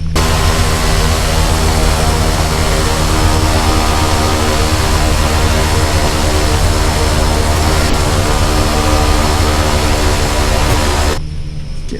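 A Carenado B200 King Air twin turboprop taxiing in X-Plane 10 gives a loud, steady engine drone with a strong turbine whine and propeller hum. It holds constant, then cuts off sharply near the end.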